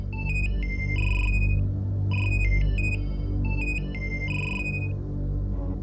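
An electronic phone ringtone plays repeatedly in short melodic bursts, fairly loud and close, over a low steady hum.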